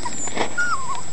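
A mini retriever puppy from a six-week-old litter gives a single thin whimper that rises and slides down in pitch, close by and fairly quiet, with a soft breathy noise just before it.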